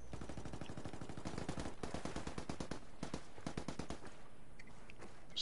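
Rapid automatic gunfire from the video game Ghost Recon, dense bursts of repeated shots firing almost continuously at close range, loud and sustained with brief pauses between volleys.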